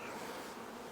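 Honeybees buzz at their beehives in a soft, steady drone, faint and continuous without any voices.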